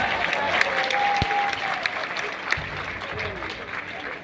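Audience at a live comedy show bursts into applause, a thick wash of clapping heard with a voice speaking over it, sustained across the few seconds.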